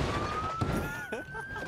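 An ambulance siren wails in the BeamNG driving game, a steady rising tone held loud and close over engine noise, with a sharp crash-like burst partway through.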